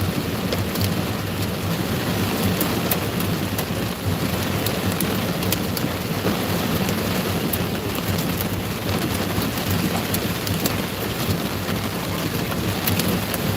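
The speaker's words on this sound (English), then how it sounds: "We got new hail in this storm that keeps developing. You can hear it hitting the car." Hail and heavy rain pound a car during a developing thunderstorm in Kentucky: a loud, dense, steady clatter with sharp scattered impacts throughout, and no talking.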